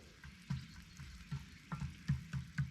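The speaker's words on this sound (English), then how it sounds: "Add a bit of olive oil and 4 beaten eggs. Then cook again for a few minutes" Beaten eggs and a lettuce mixture fry in olive oil for an ancient Roman patina, giving a steady low sizzle punctuated by soft irregular pops and crackles, close and fairly quiet, with no voices.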